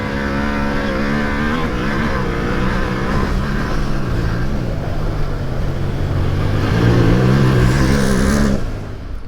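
Off-road motorcycle cornering hard at race pace, the engine droning loudly and continuously, pulling through the turn and rising in pitch as the throttle opens near the end before cutting off abruptly.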